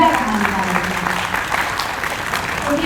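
An audience claps steadily for women storytellers at a stage event, with sustained applause throughout and a voice speaking over it.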